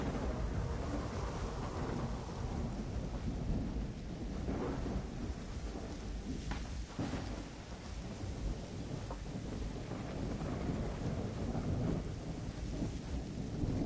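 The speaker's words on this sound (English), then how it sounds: "I do want to make it nighttime and do the thunderstorm." Thunderstorm in the dinosaur survival game The Isle Evrima at night, heavy rain hissing steadily with low rolling thunder rumbling underneath throughout, continuous and without voices.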